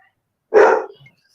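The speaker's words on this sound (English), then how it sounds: "I hear a big dog in the back." A big dog gives one gruff bark from somewhere in the background, short and moderately loud, followed by a faint small sound in an otherwise quiet room.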